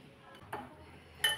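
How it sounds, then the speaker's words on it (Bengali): A spoon mixes vegetable momo filling seasoned with salt, black pepper and a little soy sauce in a bowl, giving a couple of soft clinks and scraping stirs, fairly quiet and alone. "এটা একসঙ্গে সব ভালো করে মিশিয়ে নেব।"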